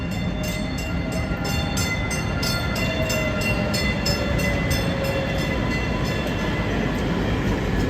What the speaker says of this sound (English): Oh, then there's another one coming. These trains come with a lot of frequency.